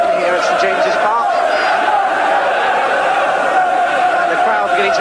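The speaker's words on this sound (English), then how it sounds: "And the crowd beginning to respond again to try and lift Newcastle." Football crowd at St James's Park during a 1982-83 Newcastle match against QPR, a steady loud roar of voices rising in encouragement throughout, with no clear break.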